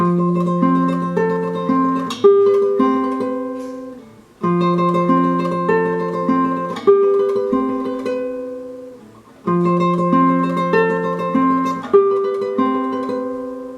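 A solo classical guitar plays a tremolo passage from Tárrega's Recuerdos de la Alhambra, a repeating phrase of rapid, evenly picked notes over a bass line, played through about three times with brief pauses.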